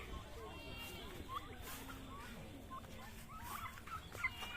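Turkeys gobble and cluck in short bursts on a turkey farm in Shibganj, Chapainawabganj, Bangladesh, against a busy outdoor background of faint chatter and farmyard noise.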